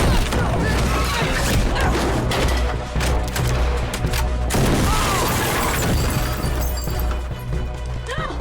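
Loud shotgun blasts and crashing impacts in a film scene where a shotgun is grabbed from behind a store counter, dense and continuous with a dramatic score underneath.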